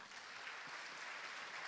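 A church congregation applauds during a Sunday celebration service, with steady, continuous clapping that stays fairly faint and distant throughout, and no voices over it.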